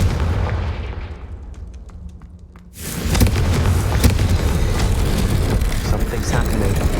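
Confringo fire-spell blasts in Hogwarts Legacy: after a short fading rumble, a sudden loud burst launches a dense run of repeated fiery explosions and crackling impacts that continue to the end.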